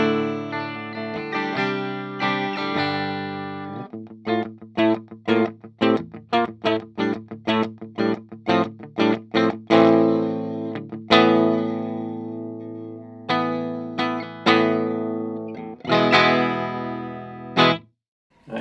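Electric guitar in a clean tone is played through a Flattley Reaper distortion/overdrive pedal with no effects or reverb engaged. It strums sustained chords, then a quick run of short, clipped picked notes, and closes with more ringing chords, all alone.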